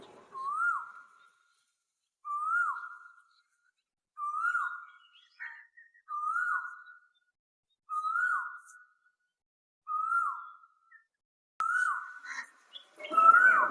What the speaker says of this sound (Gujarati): જો અત્યારે કોયલબેન બોલવા માંડ્યા.